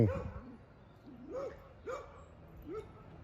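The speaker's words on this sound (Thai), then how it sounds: "บัสเตอร์มันเงนเห่า" A dog barks four times at uneven intervals, moderately close, with short quiet gaps between the barks.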